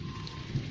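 Light rain pattering with a low rumble of thunder beneath, a brief steady wash of drops.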